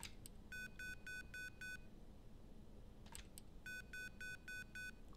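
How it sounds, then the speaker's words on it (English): Keypad beeps from the video game Yuppie Psycho: two quick runs of five clear electronic tones, separated by a pause, each run followed by a soft click, over a faint steady hiss. "Why did the third beep not happen?"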